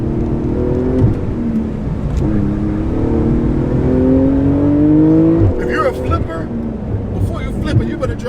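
A Porsche GT2 RS engine revs with its exhaust flaps open, a loud close rising and falling drone with pitch climbing under rev, followed by crackly pops, while people talk over it.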